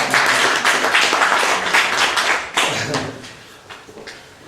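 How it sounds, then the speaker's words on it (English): A conference audience applauds the IoT speaker Jeff, dense clapping and taps filling the space loudly, then thinning out toward the end. "Big round of hand of applause for Jeff"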